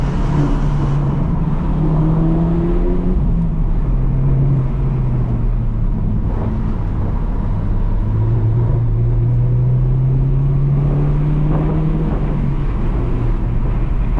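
A 300 hp VW GTI accelerates through a tunnel, its engine a loud, steady droning roar with rising pitch, echoing continuously with no voices.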